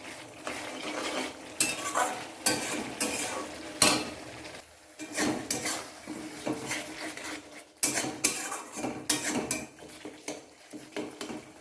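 A spatula scrapes and clatters against a pan while pumpkin ghonto with fermented fish is stirred and fried, in irregular bursts of metallic strokes with short pauses and a faint sizzle beneath.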